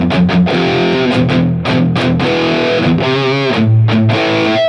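High-gain electric guitar played through the Marshall DSL100 amp model on a NUX MG30 unit, loud and saturated, with chugging palm-muted chords and sustained distorted notes ringing alone.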